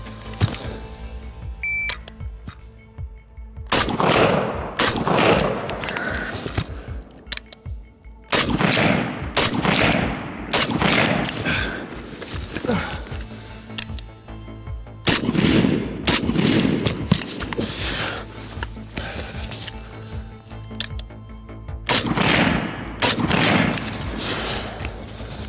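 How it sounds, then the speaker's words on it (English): An AK rifle firing 7.62x39 rounds during a timed shooting drill outdoors: loud, close gunshots in bursts of rapid single shots, with short pauses between strings, continuing throughout. "Now let's check it out with the AK."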